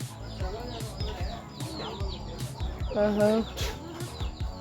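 Desi hens and their chicks cluck and peep inside a village house, a string of short clucks and thin chirps close by, mixed with a person talking.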